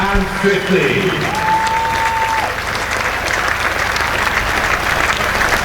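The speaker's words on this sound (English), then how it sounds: "Taunton will rise to acclaim Marizanne Kapp. Listen to the applause" A cricket crowd at Taunton applauds Marizanne Kapp during a women's Test match between England and South Africa, steady sustained clapping from a large gathering that carries on without pause.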